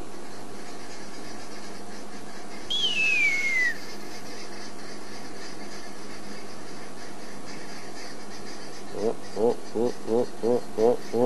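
A voice imitates an arrow-marked babbler's call with a string of about six short, rising, whistled hoots near the end, after a brief descending whistle earlier, over steady background noise.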